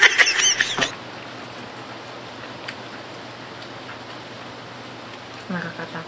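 Heavy rain falls outside, a steady dense hiss heard from indoors, with a brief sharp noise at the start and a faint squeaky sound near the end.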